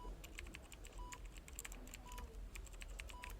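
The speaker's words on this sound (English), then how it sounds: "the nurse typing on the keyboard" Keys clatter on a computer keyboard in a quiet medical exam room as a nurse types, with irregular light clicks in bursts beside a faint recurring monitor beep.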